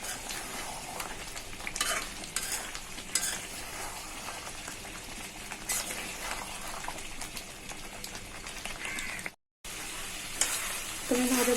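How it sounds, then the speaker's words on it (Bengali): Beef kala bhuna curry frying and being stirred in a pan on high heat as the gravy dries out, a continuous sizzle with scraping spoon strokes and a brief cut near the end. "ভাজা ভাজা করে নেব।"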